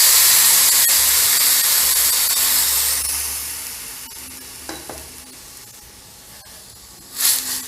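Boiled cow's milk poured into a hot pan of lightly fried poha (flattened rice) for aval payasam: a loud, steady hissing sizzle that gradually fades and settles, with a brief stir-like clatter near the end and no talk.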